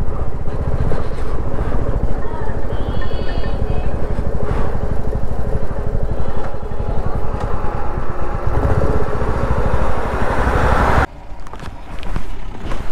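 Motorcycle engine running steadily in a snowy mountain valley near a temple on the Silk Route in Sikkim, a loud continuous drone that cuts off abruptly near the end, with faint voices.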